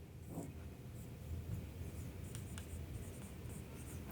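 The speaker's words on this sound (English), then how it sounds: "We're gonna write male and female." Pen or marker writing on a board, faint soft scratchy strokes in short bursts, quiet against a steady low room hum.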